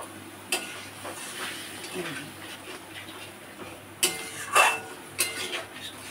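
A spice paste cooks in a pan with a little oil and water, a soft sizzle under scraping stirs and sharp metal spatula clinks against the pot, with a cluster of louder knocks near the end.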